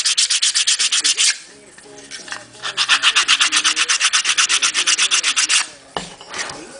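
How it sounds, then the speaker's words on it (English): Balsa wood sanded with a sanding block flush to a model car body, rapid rhythmic back-and-forth rasping strokes, loud and close, in two long bursts separated by a brief pause, with a short knock near the end. "Sand the top and the bottom down flush with the top of the car body."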